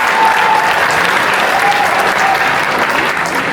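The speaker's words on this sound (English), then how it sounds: "I wanted to give a round of applause to the chef Kendra who prepared the food today." An audience at a Black History Month kickoff celebration claps for the chef, producing steady, dense applause that fills the whole stretch at moderate loudness.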